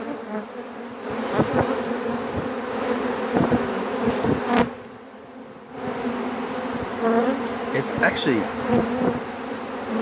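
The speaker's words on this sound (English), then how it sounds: "rather loud, and it's just from bees flying." Loud, dense buzzing of many red bees in flight, continuous with a brief dip midway, individual wingbeats whining past close by.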